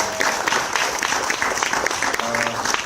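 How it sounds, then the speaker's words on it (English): Audience applause at a 25th-anniversary screening Q&A for the film Poetic Justice, a steady, dense wash of many hands clapping that holds at an even level throughout, with a faint voice beneath it. "So let's give them a round of applause for creating the program."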